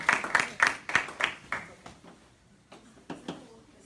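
Meeting attendees clap for Cindy in a room, a small group's scattered claps that start fairly loud and thin out to a few faint, separate claps at the end.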